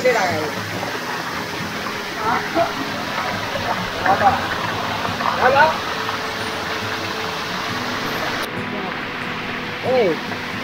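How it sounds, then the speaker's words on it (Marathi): A hidden forest waterfall at Shirvali in the Konkan gives off a steady, broad rushing roar throughout. People talk over the water, and birdlike chirps occasionally cut through. "आणि मस्त धबधबा आहे"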